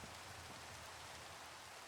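Steady rain falls in the Minecraft modpack Skyfactory 5, a constant even hiss of drops on surfaces with no break and no voices.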